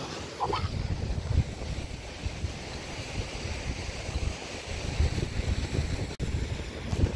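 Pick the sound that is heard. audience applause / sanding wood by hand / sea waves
sea waves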